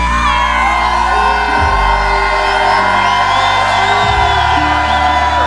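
A concert crowd at an urban music event cheers and shouts loudly and continuously, with whoops and yells rising over a bed of sustained music.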